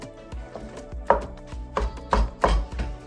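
A wooden spoon or spatula works through a pot of Bolognese with sausage, beef and a splash of white wine, giving several irregular thuddy knocks and wet scrapes against the pot, fairly close and loud.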